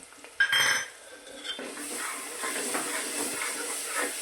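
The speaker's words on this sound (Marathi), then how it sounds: "आता ह्यामध्ये कोथिंबीर टाकायची तेलातच" Coriander hits hot oil with onion and tomato in a pan, starting with a sharp clatter of a utensil against the pan, then a steady close sizzle and hiss with light stirring scrapes.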